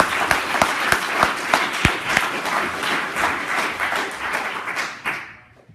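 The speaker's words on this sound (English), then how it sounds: "so big round of applause to Tobias." Conference audience applauding a visiting speaker, a dense run of many hands clapping at steady volume with a few sharp louder claps, then quickly fading out.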